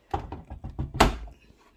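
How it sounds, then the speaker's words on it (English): An LG F4V310SNEH direct drive 10.5 kg washing machine door unlocks with a quick series of clicks and thunks, followed by a louder clunk as the door is pulled open, close and distinct with no talking. "Unlocked. The door is released."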